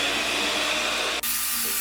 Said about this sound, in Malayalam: ലോ സ്പീഡിൽ ബീറ്റ് ചെയ്ത ശേഷം ഇത് ഹൈ സ്പീഡാക്കി കൊടുക്കാം.